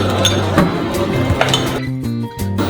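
Char siew and liver tossed into a very hot wok for buah keluak fried rice, with a busy run of metallic clinks and scraping of a spatula against the pan, close and fairly loud.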